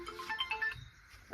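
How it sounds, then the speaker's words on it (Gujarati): A short electronic phone ringtone plays a quick run of bright melodic beeps, then cuts off into near silence with a faint thump at the end. "ફોન આવ્યો તારે"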